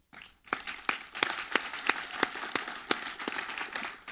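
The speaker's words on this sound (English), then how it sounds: "I just want to give them a round of applause." A modest audience at a brewers' conference keynote breaks into applause after a brief pause, with individual claps standing out in a fairly sparse, rhythmic patter over a soft wash of hands.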